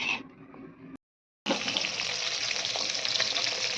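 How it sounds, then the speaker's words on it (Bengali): Fish coated in salt and turmeric sizzling in a pan, a dense crackling hiss that fills the clip after a brief break, close and fairly loud with no talk. "তো মাছটা এবার ভাজা হবে।"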